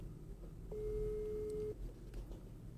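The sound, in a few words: telephone call ringing tone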